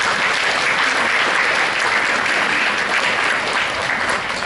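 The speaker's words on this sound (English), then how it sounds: "give her a round of applause," Loud, dense applause from a dinner theater audience in a school building, a steady wall of many hands clapping that holds at full strength throughout with no talk.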